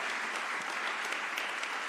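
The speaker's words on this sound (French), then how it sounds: "Vous applaudissez Catherine Pégard, Françoise Banat-Berger, Odon Vallée." An audience at a cultural heritage panel event applauds the guest speakers, a dense, even wash of many hands clapping throughout, with no talk over it.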